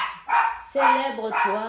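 A dog barks a few times in the background while someone speaks steadily over it in the foreground.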